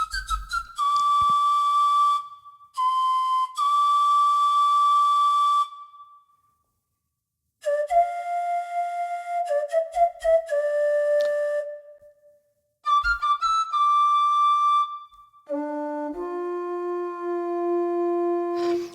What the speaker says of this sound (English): So pan flute is going to play differently as well.